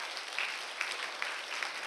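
A church congregation applauding at an anniversary service, a dense, steady wash of many hands clapping at moderate distance, heard alone without speech.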